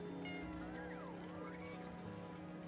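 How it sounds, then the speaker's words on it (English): A cat meows repeatedly in the game Factorio, with several drawn-out, wavering calls over a steady mechanical background hum. "I hear a cat."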